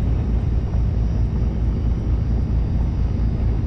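Small airplane engine roaring steadily inside the cabin, a loud, even low-pitched drone with no break.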